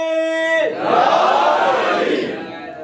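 A crowd at a majlis in Brussels, Belgium, roars back the Naara-e-Haidri slogan response, a loud sustained mass shout that swells and fades, following a long amplified call by a single voice.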